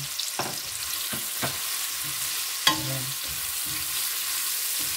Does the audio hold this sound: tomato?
yes